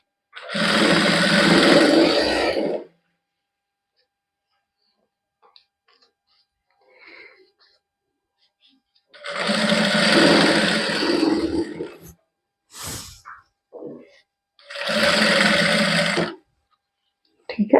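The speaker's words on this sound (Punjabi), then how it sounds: "ਇਹਦੇ ਉੱਪਰ ਆਪਾਂ ਸਲਾਈ ਲਾ ਦਾਂਗੇ" Sewing machine stitching a salwar cuff, running in three loud, close bursts of steady whirring separated by silences, with a few faint short clicks and rustles between runs.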